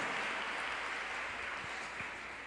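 A church congregation claps steadily, a dense wash of applause heard close and continuous throughout, without pause.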